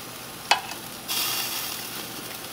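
Peppers and onions sizzle on a grill beside steak, a steady frying hiss with a couple of sharp clicks as the peppers are moved around, close and moderately loud.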